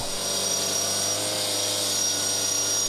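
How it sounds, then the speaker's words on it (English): A concrete saw slices through an old patio slab, a loud, steady, high grinding whine that holds unbroken from start to finish, with no voices. "While the concrete guys slice through the old patio"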